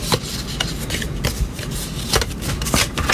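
Scored cardstock folded and creased by hand in a stamping class: a quick series of close, crisp paper rustles and rubbing scrapes over a few seconds, with no speech.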